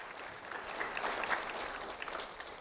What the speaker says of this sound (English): So a round of applause for all those people helping behind the scenes in so many ways